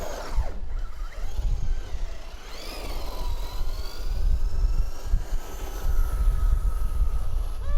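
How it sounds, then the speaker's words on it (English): A Tamiya Mustang RC car runs at full throttle outdoors, giving a steady, fairly loud high-pitched electric motor whine with rising and falling pitch sweeps as it accelerates and swerves, heard alone without talk. "So that Mustang moves out on full throttle."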